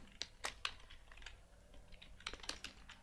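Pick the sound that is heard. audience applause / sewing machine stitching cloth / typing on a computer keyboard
typing on a computer keyboard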